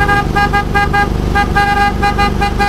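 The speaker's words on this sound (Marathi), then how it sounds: "परवा दिवशी क्रेटाचा हॉर्न बसवला तो सगळ्यांना दाखवता" A loud Hyundai Creta-style car horn sounds in a rapid series of short, tuneful toots, close by, repeating rhythmically throughout.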